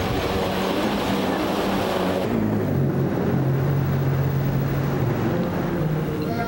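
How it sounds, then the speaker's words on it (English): A loud jet ski engine roars close by in Tahiti, then shifts to a lower, steadier drone partway through as the watercraft gets under way. "that didn't stop us from trying the jet ski"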